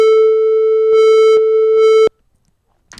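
A steady, buzzy FM8 synthesizer tone with rich drive-distorted harmonics holds for about two seconds, then cuts off abruptly into silence before a brief sound at the end.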